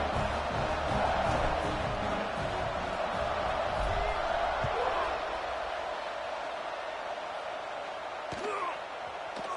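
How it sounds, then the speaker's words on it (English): A football stadium crowd at a Tennessee versus Texas game keeps up a dense, steady roar throughout, with a few sharp thumps and bursts rising from the din. "this crowd is buzzing after that last score"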